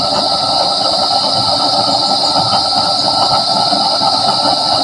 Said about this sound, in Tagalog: Malakas na yan, ganyan na apoy.